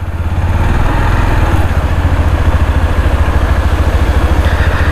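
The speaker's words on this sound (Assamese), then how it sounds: "মই এতিয়া হাবিৰ মাজেৰে বাইক লৈ যাম" Motorcycle engine running close and loud on a ride through jungle, a steady low throbbing beat with slight rises in revs, no voices.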